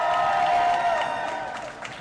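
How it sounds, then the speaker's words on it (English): A crowd at a roller derby bout cheers and claps continuously, a broad roar of many voices and applause that stays loud throughout and eases slightly toward the end. "And do we have any people cheering for PoP?"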